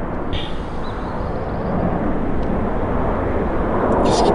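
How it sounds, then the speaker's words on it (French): An airplane flies overhead, a broad rumbling roar that swells steadily louder over a few seconds and dominates the scene. "Si tu es trop dérangé par l'avion, tu l'exprimes."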